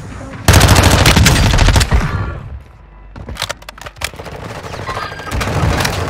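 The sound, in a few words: enemy gunfire in a video game, Ashika Island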